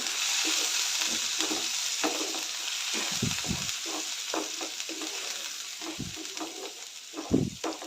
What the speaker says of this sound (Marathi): ग्रेव्ही थोडंसं तेलामध्ये परतून घेऊया याला चांगलं तेल सुटेपर्यंत परतून घेऊया